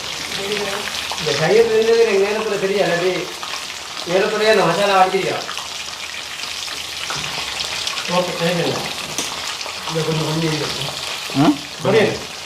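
Food frying in a pan, a steady sizzle running beneath someone speaking at close range, with occasional stirring clinks.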